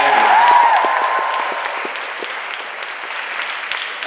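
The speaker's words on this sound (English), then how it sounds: "can I have a round of applause for my producer" University audience giving a round of applause for a producer named Jared, a loud burst of clapping with a whoop at the start that gradually thins and fades.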